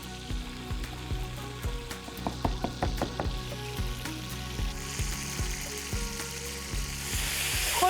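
Meatballs browning in a frying pan for spaghetti and meatballs, a steady crackling sizzle with sharp regular knocks of a knife chopping herbs nearby, continuous and fairly close.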